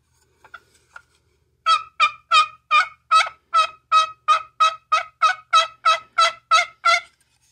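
A few soft clucks, then a homemade wooden turkey box call yelps in a steady, rhythmic series of about fourteen raspy notes, clear and close in a quiet setting.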